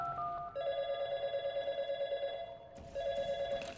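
Within the Portal 2 video game, a telephone rings in clear, repeated electronic bursts with a short pause and a second ring beginning, heard alone without talk.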